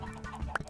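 A Minecraft chicken gives short clucks, close and moderately loud, with a couple of brief game sounds around it.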